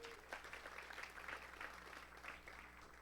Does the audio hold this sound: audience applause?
yes